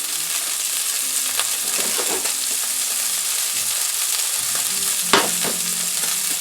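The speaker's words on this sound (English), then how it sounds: "Potatoes are cooking well." Potatoes fry in a pan with a steady, loud sizzle, broken by a few light stirring scrapes and one sharp clack near the end, for the length of a black pepper tuna medallion dish.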